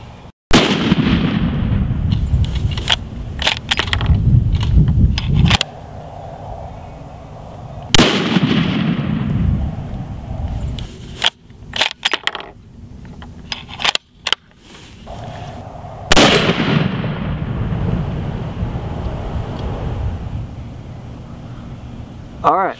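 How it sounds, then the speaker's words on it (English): Three loud, sharp rifle shots from a Mossberg ATR 100 in .270 at an outdoor range, spaced several seconds apart, each with a booming echoing tail, with people talking between shots. "we shot our three round group"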